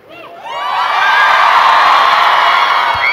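A large audience screaming and cheering at a live event with Tom Holland, a loud high-pitched roar of shrieks and whoops that swells over the first second and holds steady.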